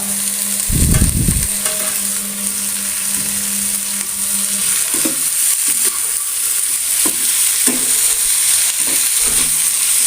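Chopped onion and tomato for an omelette sautéed in a pan, giving a steady close sizzle with intermittent stirring scrapes and clinks of a spatula, and no voices.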